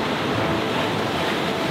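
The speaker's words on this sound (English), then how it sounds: "we have the ocean over on this side" Ocean waves roar as a steady, broad wash of surf, loud and continuous, with no voices over it.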